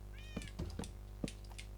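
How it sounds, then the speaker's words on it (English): A Minecraft cat lets out one short, fairly clear meow near the start, followed by a few soft clicks and taps over a steady low background hum. "I heard the cat noise in the game"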